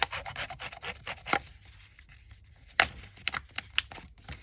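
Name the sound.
distressing the top edge of a paper ephemera folder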